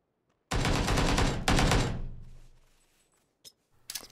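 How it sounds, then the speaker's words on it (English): Gunfire in PUBG, the video game: a burst of loud, close shots followed by a second heavy blast that rings and decays for about a second, then a few faint, sharp impacts. "My friend gets shot, and then I hear a grenade"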